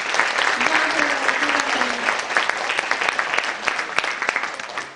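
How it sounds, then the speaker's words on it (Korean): Audience applause for Baek Seung-yeop, a police chief, at the 3rd Soonchunhyang Youth Forum, a steady, dense wash of clapping from a full hall lasting throughout, with a voice briefly heard over it. "박수 한번 부탁드릴게요."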